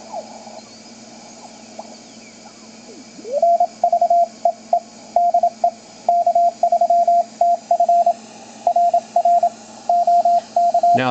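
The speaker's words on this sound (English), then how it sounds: "So let's tune in the station on 40 meters." A BC348 receiver tuned to a 40 meter station through a 400 Hz crystal filter gives clean, narrow Morse code tones keyed in rapid bursts over a faint hiss, steady and close, starting after a few seconds of quiet tuning.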